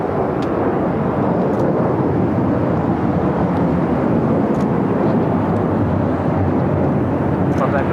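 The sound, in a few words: airliner taking off on runway 25 right at LAX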